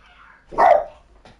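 A pet dog indoors gives a single sharp bark at close range, followed by a faint short yip, in an otherwise quiet room.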